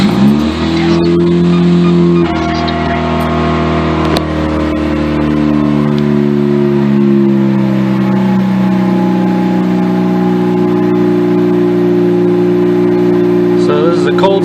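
A Mazda RX-8 rotary engine, still on its original spark plugs, idles loudly and close by after a cold start, holding a steady, buzzing drone from start to finish.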